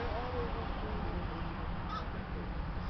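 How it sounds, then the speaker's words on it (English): A crow sitting on a power line caws outdoors, a couple of harsh calls over steady background rumble, with a voice briefly present. "A crow."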